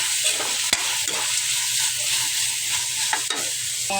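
Carrots and fresh coconut palm heart being stirred and sautéed in a pan, a steady close sizzle of frying with scraping stir strokes and a couple of sharp utensil clicks against the pan.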